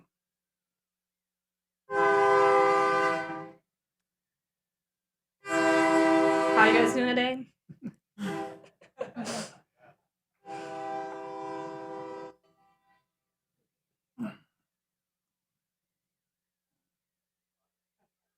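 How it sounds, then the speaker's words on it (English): A train horn sounds in long, loud, steady blasts as the train passes near an outdoor council meeting, then gives shorter broken toots, with a brief spoken greeting in between. "I'm going to pause you real quick while the train goes by"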